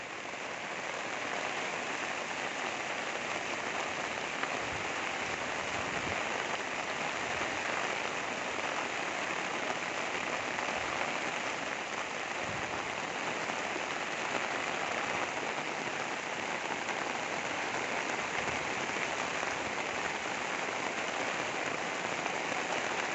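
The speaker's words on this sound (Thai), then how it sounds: "ฝนตกอย่างหนักเลย" Heavy rain pours steadily over a flooded village in Isan, Thailand, during a tropical storm, a dense continuous hiss of drops on surfaces and water that holds at an even, loud level throughout with no talking.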